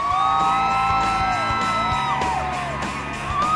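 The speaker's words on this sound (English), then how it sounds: "The screams for the movie stars were substantial." A crowd screams as movie stars arrive at a celebrity event in Los Angeles. Loud, continuous high-pitched shrieks and whoops from many fans overlap throughout.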